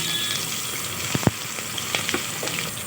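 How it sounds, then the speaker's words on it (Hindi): Finely chopped onions fry in hot oil with whole spices such as black cardamom and bay leaf for wedding-style keema, giving a steady, fairly soft sizzle with a few sharp stirring clicks near the middle. "प्याज को हम हल्का गुलाबी होने तक फ्राई कर लेंगे"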